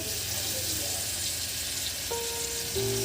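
Crab cooking with potatoes and pointed gourd in a home kitchen, a steady close sizzle of frying across the whole stretch, with faint stirring and a brief tonal clatter near the end.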